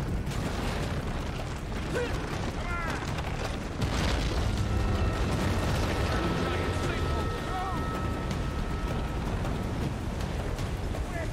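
In Uncharted 3: Drake's Deception, a place comes crashing down amid explosions, heard as a loud, unbroken roar of rumbling debris with heavy booms and bursts, while voices talk over the din.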